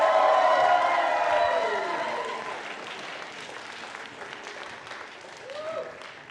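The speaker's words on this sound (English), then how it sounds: "can we please give a round of applause for Johnny?" An audience at a 2022 arts awards event applauds a long-serving staff member named Johnny: loud, dense clapping at the start gradually fades to a thinner patter, with a voice heard faintly near the end.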